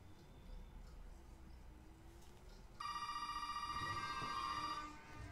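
A telephone rings inside a house in the survival horror game Resident Evil 7, a steady electronic trill that starts suddenly and holds for about two seconds over a low, quiet ambient drone, with no talk.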